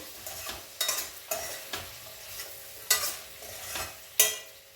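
Potatoes and fenugreek leaves frying for a curry, with a soft continuous sizzle and about eight distinct spoon scrapes and stirs against the pan, close and fairly quiet, no talking.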